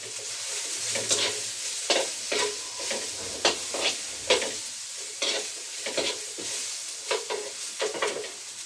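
Garlic sizzles in a hot pan while a utensil stirs and scrapes it in regular strokes, giving a steady frying hiss broken by sharp clatters, close by with no talk.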